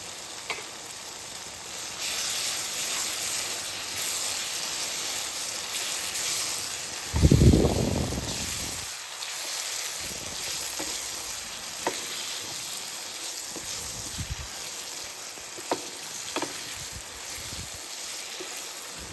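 Capsicum fries in a pan for gravy, giving a steady, moderate sizzle with a brief loud burst and occasional stirring knocks, heard close with no speech.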